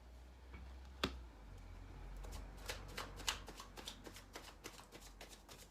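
Tarot cards being shuffled by hand, a quiet run of crisp riffling flicks and soft slaps with one sharper snap early on, close and alone with no talk.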